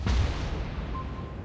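A single heavy boom of naval gunfire from a warship in a video game, a deep loud blast that rolls out and decays over a second.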